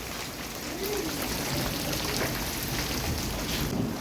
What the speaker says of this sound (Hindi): हो गई पत्थरों की बारिश, बस छोटे छोटे से गिरे हैं